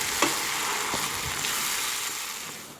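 Steady sizzling of ground tomato added to fried onions in a pan, with a few soft stirring clicks, continuous and close.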